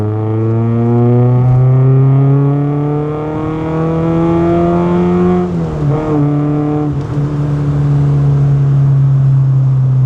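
A Rover Metro hatchback with a swapped-in Lotus K-series engine, heard from inside while driving, gives a loud, steady droning engine note that rises in pitch through the revs, eases briefly with a gear change, then holds on.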